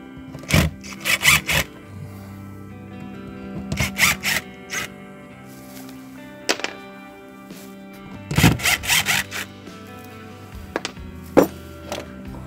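A screwdriver works screws out of an RV city water connection on a Forest River Flagstaff, making close clicks, scrapes and rattling bursts in clustered groups with quiet pauses between them.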